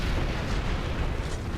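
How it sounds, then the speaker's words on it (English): A loud, dense explosion blast rumbles close up for its full length in the Space Marine video game, heavy and sustained with no talk over it. "Explosion."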